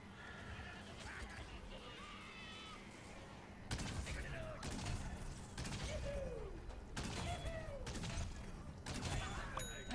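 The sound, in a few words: big cannon firing in a video game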